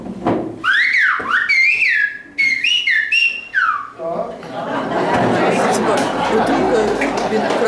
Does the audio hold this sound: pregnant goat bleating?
no